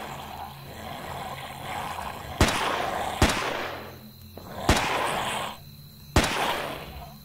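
Video game gunfire: four sharp, loud shots spaced about a second apart, each followed by a booming echo and ringing decay over a continuous rumbling game ambience.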